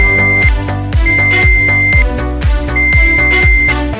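ANENG PN4104 clamp meter continuity buzzer sounding a rapid series of loud, close electronic beeps in uneven bursts, each tone bright and harmonically rich.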